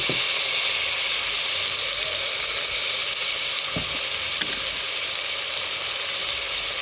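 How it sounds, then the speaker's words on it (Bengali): Ginger, garlic and cumin paste frying in a pan gives a loud, unbroken close-up sizzle with a few faint clicks from stirring throughout. "এটাকে একটু ভেজে নিয়ে এখন দিয়ে দেবো টমেটো কুচি"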